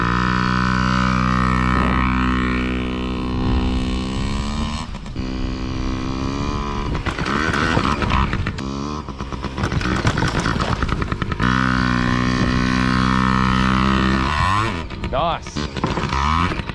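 Engines of small off-road bikes, petrol and electric pit bikes of the OSET, PEEWEE and TTR kind, are revved and varied as a rider climbs over logs and turns around, with voices talking over the steady motor whine.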